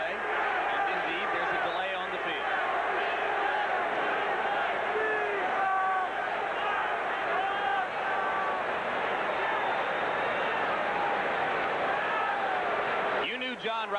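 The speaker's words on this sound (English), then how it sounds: "Crowd chanting, replay," A stadium crowd chants at a 1987 NFL football game between the Minnesota Vikings and the Los Angeles Rams, a dense, steady roar of many voices lasting throughout, with rhythmic rising shouts and a broadcast voice faintly underneath.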